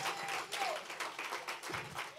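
Church congregation clapping for the pastor at a praise service, moderately loud and uneven, with some voices mixed in.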